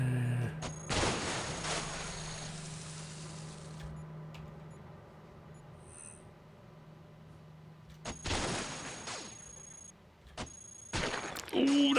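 Weapon fire in the sci-fi robot roguelike Cogmind: a sharp burst of synthetic gunfire near the start, a lingering electronic hum, then a second loud volley around the eighth second and more crackling shots at the end.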